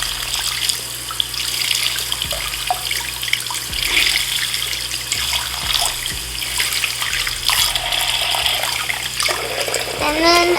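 Tap water runs steadily into a bathroom sink while makeup brushes are squeezed out under the stream, a continuous splashing rush with no pauses from start to finish.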